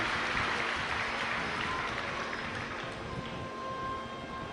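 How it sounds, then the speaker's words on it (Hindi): A large gathering at a religious discourse claps in sustained, even applause at a moderate distance, a continuous dense patter with a low hum underneath. "एक बार जोरदार ताली बजाकर यजमान परिवार को साधु का"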